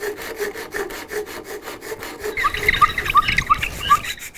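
Hand tool working wood back and forth in steady rhythmic strokes, close and loud, a raspy scraping pulse that grows grittier and brighter with squeaky accents in the second half.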